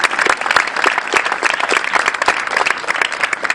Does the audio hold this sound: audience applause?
yes